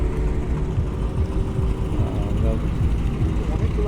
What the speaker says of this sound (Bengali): নৌকা চলে যাচ্ছে পাশ দিয়ে